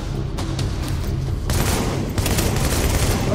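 Weapon fire from a gun in Tom Clancy's The Division during a boss fight against a huge dragon, a dense, continuous barrage of shots and booms layered over loud game action, with no talking.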